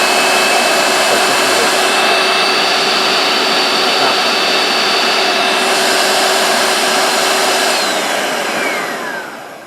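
Bissell Spotbot carpet cleaner motor running steadily, a loud, close, constant whine and rush of air with a steady tone that begins to wind down at the end.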